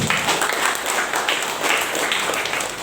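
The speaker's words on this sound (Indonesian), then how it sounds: "Tepuk tangan untuk JP Ansor." Audience applause at a basic leadership training event for the Ansor youth organization, a steady wash of many hands clapping that fills the whole moment without easing off.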